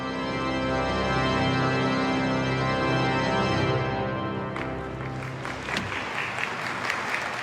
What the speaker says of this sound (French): Daniel est applaudi.